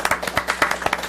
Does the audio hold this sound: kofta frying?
no